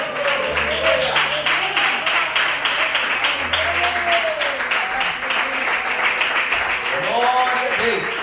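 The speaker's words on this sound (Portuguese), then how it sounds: "E se desejar da glória, aplaudir o Senhor, aleluia" A church congregation applauds at a Sunday service, with dense, continuous clapping from many hands filling the room while a voice speaks and calls out over it throughout.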